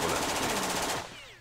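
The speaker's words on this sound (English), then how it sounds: "Just hit him with lots of bullets." Automatic gunfire from the video game Jagged Alliance 2, a rapid burst of repeated shots that stays loud for about a second and then cuts off abruptly.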